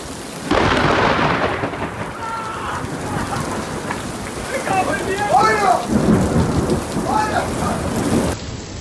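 A heavy thunderstorm pours rain steadily on surfaces while several loud rolls and cracks of thunder rumble through, sustained and close, with no voices.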